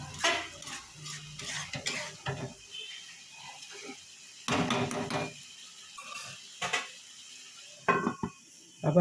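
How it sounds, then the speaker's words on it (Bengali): Metal lid set back onto a pot of peas cooking in a Bengali kitchen, a few clanks and scrapes of metal cookware spread across the clip, fairly close, with quiet gaps between. "আবার ঢাকা দিয়ে দিলাম।"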